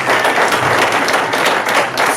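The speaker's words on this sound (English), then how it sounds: "Give everybody who gave it a shot a big hand." Audience applause at a hypnosis show, a dense, loud, steady burst of clapping from a crowd filling the whole stretch.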